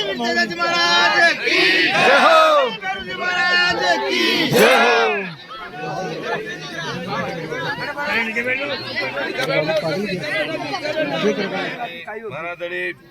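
A crowd gathered in Jamola village makes loud overlapping chatter and shouting, with several people talking close by and busy murmur behind them.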